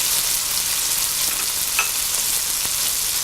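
Shrimp biryani masala with tomatoes and chopped cilantro sizzles and fries steadily in a pan, with a brief stirring scrape partway through, close and loud with no voices.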